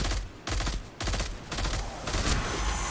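Rapid gunfire shooting enemies in the video game Destiny 2, with loud, close bursts of shots fired in quick succession and several short pauses between volleys.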